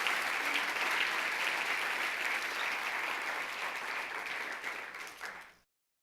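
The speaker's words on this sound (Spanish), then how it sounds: "Dele fuerte el aplauso al Señor." A church congregation applauds in a full, steady burst of clapping that holds for several seconds and then fades out quickly.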